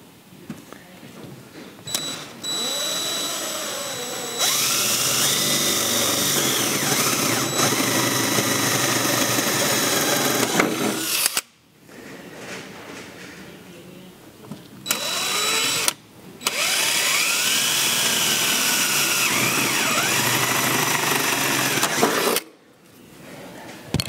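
Power drill deburring a hole in a MOCAL catch tank on a Ford Capri 2.9 Cosworth, two long loud bursts of whining motor and grinding with a short pause between, ending abruptly.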